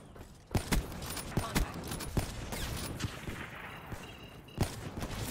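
Sniper rifle shots from a Call of Duty match, several sharp cracks spaced irregularly over a busy background of game ambience.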